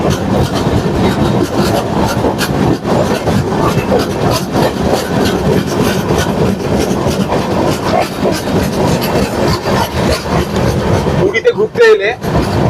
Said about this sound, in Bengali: তো ট্রেনটা এখন যাজপুর কেওনঝাড় রোড দিয়ে সামনের দিকে এগিয়ে চলেছে।